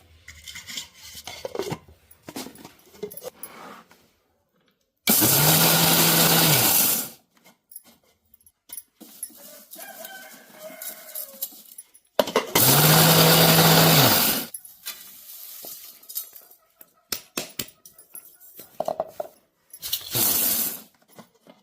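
A mixie jar grinds ingredients for spicy hindi kaara in two loud, whirring bursts of about two seconds each. Quieter clinks and handling noises come between them, close by.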